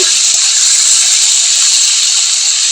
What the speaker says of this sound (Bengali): এখন আমি যে ফুলকপিগুলো লাল লাল করে ভেজে নেব